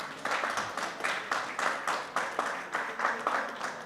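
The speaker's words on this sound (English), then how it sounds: "Thank you for the applause" Audience applause at a vintage watch event, a soft, moderate patter of clapping in uneven pulses, fairly distant and quiet with no talk over it.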